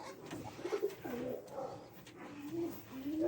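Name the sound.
pigeons cooing in a loft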